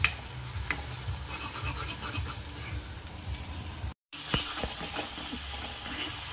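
A spoon scrapes and stirs masala for a spicy soybean curry in a pan over medium gas, a close rhythmic rasp over a soft sizzle, with a brief cut partway through.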